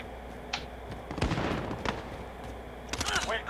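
Automatic gunfire rattles in bursts during a Call of Duty: Modern Warfare match, sentry gun shots mixed with other game sounds at moderate level, with players chatting over the action.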